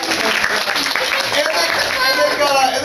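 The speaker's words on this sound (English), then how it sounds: "Let's give Scootaloo a big round of applause" Audience applause fills a fan convention panel room, dense, loud and continuous, with voices and cheers mixed in throughout.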